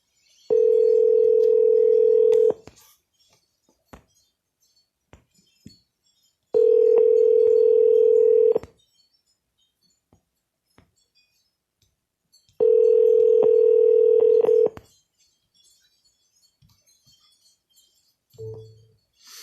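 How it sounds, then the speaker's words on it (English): A Vulcan auto-dialing system used for real estate cold calls sounds a steady telephone tone in three long bursts of about two seconds each, separated by quiet gaps with faint clicks. "So we're using the Vulcan dialing system here."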